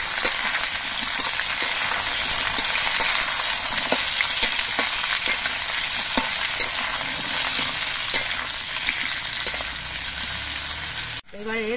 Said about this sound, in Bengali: আলুগুলো আমি কিছুক্ষণ ভেজে নিয়েছি, দেখুন আলুগুলো অনেকটাই ভাজা হয়ে গেছে। এবার এর মধ্যে আমি বেগুনগুলো দিয়ে দিচ্ছি।